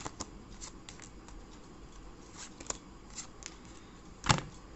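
A deck of tarot cards is shuffled steadily, giving a soft continuous riffling patter with light flicks throughout and one louder snap near the end, close and alone without talk.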